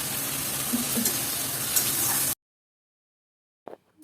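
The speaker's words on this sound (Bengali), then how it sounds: "দিয়ে দিলাম হলুদ গুঁড়ো আর লবণ দিয়ে ভালো করে মশলাটাকে কষিয়ে নেব।" Ground spice paste frying in a pan for a prawn and potato curry: a loud, close sizzle for about two seconds, then abrupt silence and a brief faint noise at the end.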